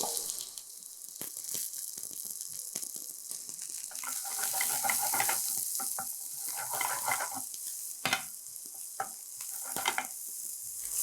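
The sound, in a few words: shallots sizzling in hot coconut oil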